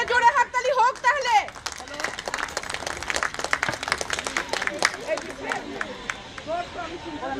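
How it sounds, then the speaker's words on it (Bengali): An audience at the Kolkata Sylhet Utsav 2025 stage event breaks into loud clapping that keeps going for several seconds. A brief voice comes first, and crowd murmur runs under the applause. "একটা জোরে হাততালি হোক তাহলে"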